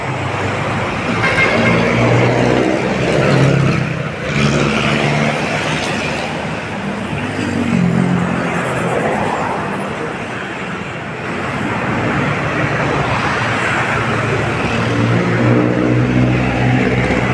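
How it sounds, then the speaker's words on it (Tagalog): Heavy road traffic near Arroceros in Manila, a steady loud roar of cars, trucks and buses passing continuously, with occasional horn toots in the mix. "Talagang libo-libong mga sasakyan ang dumadaan dito araw-araw."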